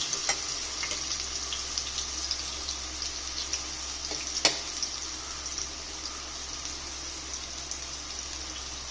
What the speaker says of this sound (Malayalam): ഒരു പാൻ അടുപ്പത്ത് വെച്ച് വെളിച്ചെണ്ണ ഒഴിച്ചിട്ടുണ്ട് കേട്ടോ അതിലേക്ക് നമുക്ക് കുറച്ച് ചൊം നമ്മൾ ചതച്ച് വെച്ച ഉള്ളി ഇട്ട് കൊടുക്കാം